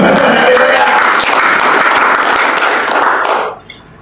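Loud, close applause from a church congregation, dense clapping that holds steady and then stops abruptly near the end.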